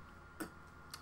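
A single Enter key press on a computer keyboard running MS-DOS, a faint close click followed by a second lighter tap, alone in quiet room tone.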